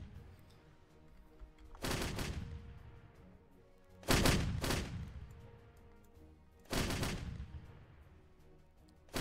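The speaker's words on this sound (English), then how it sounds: "you can do a manual fire mission. And they will fire on the anthill and it will do damage." Artillery in a video game fires in three heavy, booming salvos spaced about two seconds apart, each one sharp at onset and then rumbling away slowly, with no voices over them.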